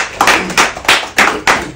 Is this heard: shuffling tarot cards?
no